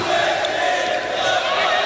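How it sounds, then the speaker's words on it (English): UST supporters in a university volleyball arena roar and cheer to pump up their team, a dense, steady crowd noise filling the whole stretch. "The crowd of UST trying to pump up their own team"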